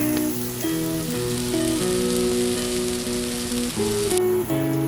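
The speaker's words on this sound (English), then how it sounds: "we're doing is onions, green pepper. We're gonna let them cook for a little bit." Onions and green peppers cook in a pan with a continuous bright sizzle and crackle, heard alongside background music.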